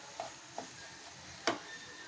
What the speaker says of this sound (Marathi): मी हलवून घेत आहे